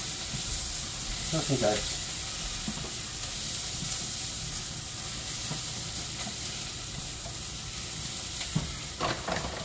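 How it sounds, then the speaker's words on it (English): Food sizzles steadily in a hot pan while a utensil stirs it, giving a constant hiss with occasional scraping strokes; a voice briefly speaks over the frying. "So let me give this a stir."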